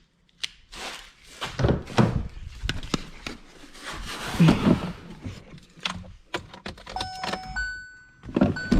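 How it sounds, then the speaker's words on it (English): Car keys for a Hyundai Tucson jangle and clink in a few short, quiet bursts close by, separated by brief pauses, with small handling and rustling noises around them. "I need the keys."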